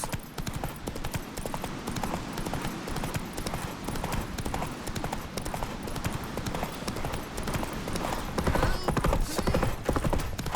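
Roach, Geralt's horse in The Witcher 3, gallops in a steady clip-clop of hooves throughout, loud and continuous with in-game ambience, building slightly toward the end.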